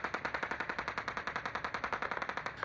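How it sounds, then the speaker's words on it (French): Rapid automatic gunfire rattles at army barracks in Burkina Faso in a steady, evenly spaced burst of about thirty shots, sharp and fairly distant-sounding, with no voices. "Dans plusieurs casernes, des coups de feu nourris sont entendus"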